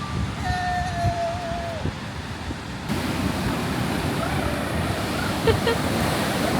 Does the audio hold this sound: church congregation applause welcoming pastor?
no